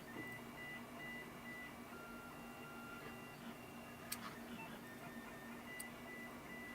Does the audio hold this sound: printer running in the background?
yes